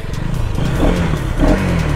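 A motorbike engine runs close by, a steady low mechanical rumble with slight revving swells and some clatter, continuous throughout with no talk over it.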